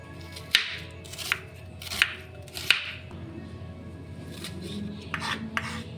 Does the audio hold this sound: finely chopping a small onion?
yes